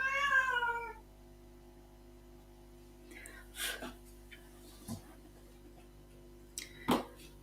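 A house cat gives one clear meow at the start, then the room falls quiet apart from faint hum and a few soft clicks and rustles.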